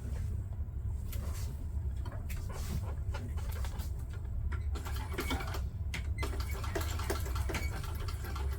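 A sewing machine runs a long seam stitch on a travel bag, its motor whirring continuously at low level across the whole stretch, with faint clicks and workshop noise above it.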